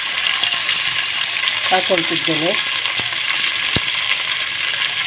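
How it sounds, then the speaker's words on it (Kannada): Chopped onions go into a hot pan and fry with a loud, steady hiss, broken by a brief ratcheting clatter and a couple of sharp taps, close up. "ಈಗ ಇದಕ್ಕೆ ಕಟ್ ಮಾಡಿದ ನೀರುಳ್ಳಿ ಹಾಕ್ಕೊಳ್ತಿದ್ದೇನೆ"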